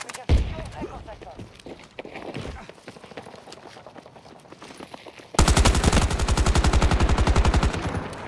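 Battlefield 2042 gunfire: a few scattered shots at first, then a sustained rapid automatic burst hammering loudly for the last few seconds, with a voice talking in the earlier part.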